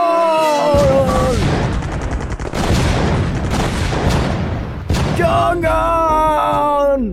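Cannon fire from an animated fleet, with a dense barrage of repeated booms and rumbling blasts that briefly ease before resuming, mixed with sustained tonal cries.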